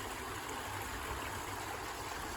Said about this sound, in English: it just spills over this waterfall and starts a stream before we wind down the hill